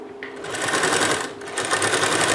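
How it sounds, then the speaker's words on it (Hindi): Sewing machine running steadily at close range, stitching extra fabric onto a blouse lining, a continuous whirring needle rhythm with a brief dip in speed midway. "एक्स्ट्रा कपड़े को ऐसे सिलाई लगानी है"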